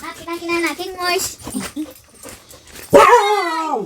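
A dog barks and whimpers at close range, with short yips, whines and a loud, rising whimpering cry near the end, mixed in with people talking nearby.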